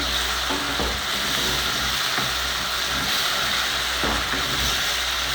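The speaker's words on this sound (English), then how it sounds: "So what I do is I give this a quick mix or a stir." Fish frying in a pan with tomato paste and oil, stirred so the steady close sizzle is broken by scraping strokes, alone with no talk.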